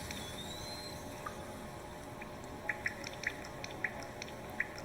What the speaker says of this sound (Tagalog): Yan ay ang tunog ng ulan.